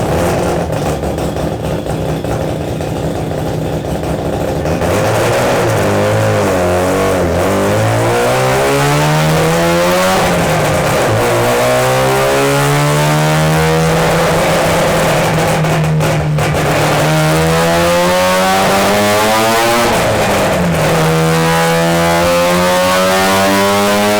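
A loud naturally aspirated car engine with individual throttle bodies revs repeatedly toward 9,000 RPM during dyno tuning, pitch sweeping up and down in long pulls, droning continuously and close by.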